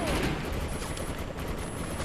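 Dense gunfire from shotguns and machine guns in the video game Defiance, a continuous loud barrage of overlapping shots with a voice faintly underneath.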